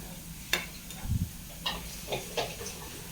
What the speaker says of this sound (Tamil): பெருங்காயத்தை போட்டு அப்படியே வதக்கிட்டு போட்டால் நல்லா சூப்பராக இருக்கும்